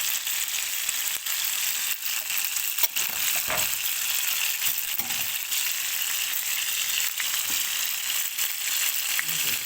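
Alexandrian-style liver sizzles steadily in a hot pan, a dense continuous frying hiss with occasional soft stirring clicks, close and loud throughout.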